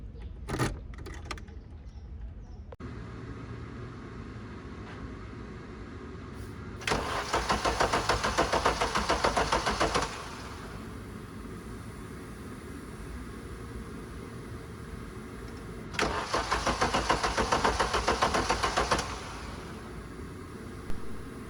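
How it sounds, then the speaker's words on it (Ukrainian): A 1983 Audi S5 Coupe, run on gas with water in the cooling system, cranks in two loud bursts of about three seconds each, separated by quiet, after some faint clicks and rattles at the start; no engine catches. "Заводити автомобіль я вирішив із водою всередині."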